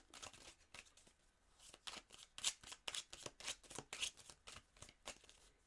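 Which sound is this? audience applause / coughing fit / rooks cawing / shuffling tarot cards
shuffling tarot cards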